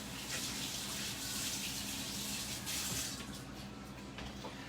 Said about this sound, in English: just rinsing my hands in between